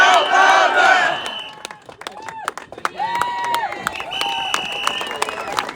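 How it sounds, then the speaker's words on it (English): A crowd at a farmers' rally roars and shouts loudly at first, then the noise thins into scattered claps and cheers that build again toward the end. "Let's hear some noise. If they will not listen, what will they do? Shout louder!"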